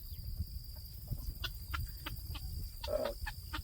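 Chickens cluck softly nearby in short scattered bursts, with one brief louder squawk, over a quiet outdoor background.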